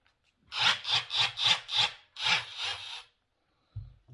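Ridgid Octane reciprocating saw cutting through wood in a quick run of about eight rasping strokes, close and clear, followed by silence and a brief thump.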